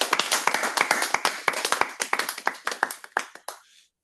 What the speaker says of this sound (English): I want us to give them a round of applause for this wonderful meeting